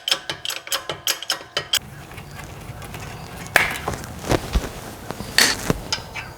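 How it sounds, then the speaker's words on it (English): A bottle jack is pumped under a Nissan Pathfinder's front suspension, giving about ten sharp rhythmic ratcheting clanks in quick succession, followed by scattered metallic knocks and shuffling handling noises nearby. "We'll jack that up till it lines up."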